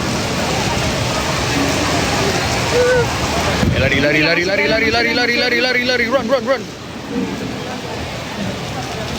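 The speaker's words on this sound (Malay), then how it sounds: "Mami kata hujan ni tak kuat." Steady outdoor rain hisses across surfaces, a broad wash of sound heard under excited voices that shout and chatter over it, with a voice prominent midway.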